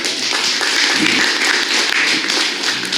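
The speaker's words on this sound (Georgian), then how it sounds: "აი აპლოდისმენტები" Audience applause at a poetry reading in a writers' house, steady dense clapping from a crowd filling the whole stretch without break.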